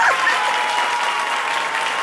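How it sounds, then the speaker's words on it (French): Audience applause at a live French-language event honoring the Abouré people, a dense, steady roar of many hands clapping for about two seconds with no voices over it. "Applaudissez pour les abourés."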